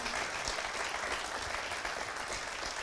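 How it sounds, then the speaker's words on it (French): Continuous audience applause for the jury members at a teaching innovation awards ceremony, dense and even clapping that holds steady throughout without any voices over it. "Je vous demande vraiment d'applaudir les membres du jury"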